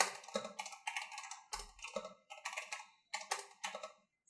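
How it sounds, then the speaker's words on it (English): Terminal commands are typed on a computer keyboard in short bursts of rapid, close key clicks separated by brief pauses, with no talk. "here I will enter the second command for Bob"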